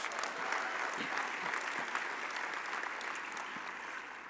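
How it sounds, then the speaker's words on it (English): Applause at a national conference awards gala fills the room for a few seconds, dense and even clapping from a large audience with no talk over it. "I'd like to give her a round of applause"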